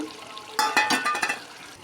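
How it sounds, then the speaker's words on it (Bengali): Fried prawns are tipped into a pointed gourd and prawn curry and stirred, giving a short burst of close, bright sizzling and spoon scraping after a quiet start. "এরপর ভেজে রাখা চিংড়ি মাছগুলো দিয়ে দেব"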